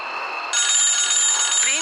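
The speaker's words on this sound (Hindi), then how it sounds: "उसके टेलीफोन पर फिर से घंटी बजती है।" A telephone bell rings loudly at midnight in an animated horror story, a continuous bright, shrill tone that jumps higher and louder partway through.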